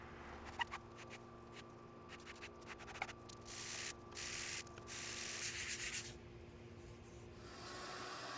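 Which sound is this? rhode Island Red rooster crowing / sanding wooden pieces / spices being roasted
sanding wooden pieces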